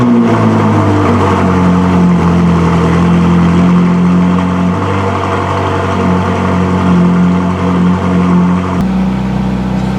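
A Ferrari 458 Spider's 4.5-liter V8 starts, idles and revs with a deep, rumbling tone, holding steady before the pitch drops near the end; loud and close.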